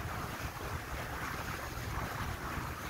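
A Sun Odyssey 35 sailboat motors under engine with the mainsail up, heard as a steady roar of wind and rushing water with a low rumble underneath, continuous and unbroken.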